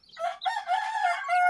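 Backyard chickens, including a gray young bird, call out in a loud, close, harmonic cluck that rises into a sustained crow-like note over about a second and a half.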